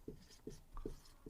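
A pen scratches across a notebook page in four short, soft strokes spaced about every half second, quiet and close, with no talk over them.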